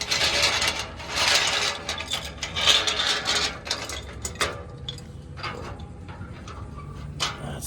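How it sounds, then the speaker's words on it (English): A metal gate at a beach is pulled open, its latch and hinges rattling and clanking in a loud, continuous metallic clatter with uneven knocks throughout. "I'm gonna try to open this gate"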